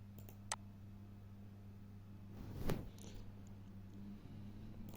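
Computer mouse clicks while tracks are drawn in KiCad PCB design software, a few sharp faint clicks over a steady electrical hum in a quiet room.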